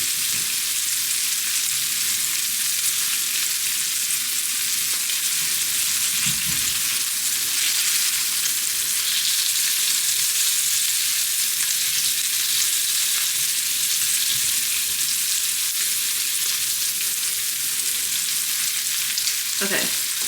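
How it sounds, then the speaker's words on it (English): Meat sizzles steadily in a hot pan during home cooking, a constant close hiss of frying with a couple of brief clinks, no voices. "We are gonna sear it though, once we get these sides down."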